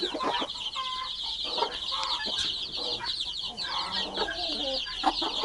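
Broody hens tending broods of chicks cluck softly and repeatedly up close, with high chick peeps running constantly underneath.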